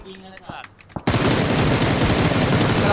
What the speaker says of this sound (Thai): ตรงข้ามยิงมาตรงข้าม